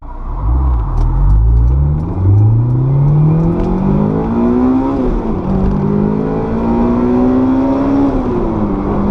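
A Honda S2000 driving and accelerating, engine note rising through the revs in a loud, close cabin rumble and whir, with a gear change midway and no speech.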